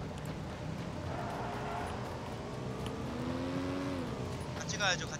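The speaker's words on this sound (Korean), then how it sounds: "차 소리." A vehicle engine in the battle royale game PUBG hums steadily and rises in pitch as it accelerates, heard at moderate distance beneath players talking over it throughout.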